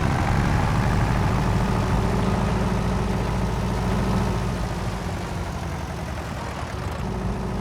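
An old tractor engine in a farming video game runs steadily at a low, heavy rumble, loud and continuous throughout with no talking.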